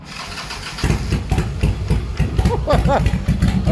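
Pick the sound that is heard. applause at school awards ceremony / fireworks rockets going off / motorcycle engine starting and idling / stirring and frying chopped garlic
motorcycle engine starting and idling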